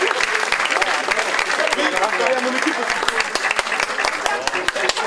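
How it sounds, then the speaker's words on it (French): Sustained audience applause at a public competition for winners and losers alike, a dense, even stream of many hands clapping close by, with a few voices mixed underneath. "j'aimerais qu'on applaudisse non seulement les gagnants"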